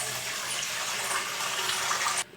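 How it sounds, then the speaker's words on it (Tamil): Tap water gushes steadily into a cooking vessel in a home kitchen, a close, even rush that cuts off abruptly near the end. "ஒரு பாத்திரத்தில் தண்ணியை பிடிச்சி மேலே வச்சிடலாம்"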